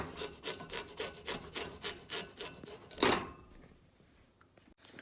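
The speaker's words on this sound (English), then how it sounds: "I like to grate the garlic over the rice like that" Garlic cloves grated over rice on a hand grater give a steady run of about ten rhythmic rasping strokes, close and fairly loud, ending in one sharper knock before near silence.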